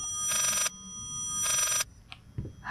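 A telephone ringing in the horror video game Layers of Fear, two loud bursts of an old-style bell ring separated by a pause, followed by faint thumps.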